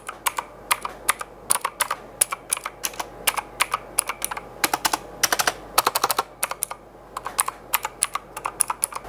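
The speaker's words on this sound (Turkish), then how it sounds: "İsterseniz mavi switch sesine birazcık bakalım." Rapid, clicky keystrokes on a Gamepower Ogre RGB mechanical keyboard with blue switches, crisp, sharp clacks in irregular bursts, close up and fairly loud, with no talking.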